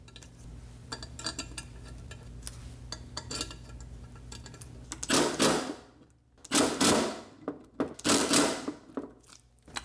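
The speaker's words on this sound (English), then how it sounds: "now we can go ahead and put our bolts back in" Bolts being fastened back into the stator cover of a 2006–07 Suzuki GSX-R 600/750 motorcycle, with quick metallic clicks of a ratchet followed by several louder bursts of tool noise.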